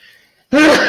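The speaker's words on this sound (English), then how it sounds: "I'm going to sneeze, sorry." A single sudden sneeze bursts out loud and close after a moment of near silence, from a math teacher partway through a lesson on sine regression.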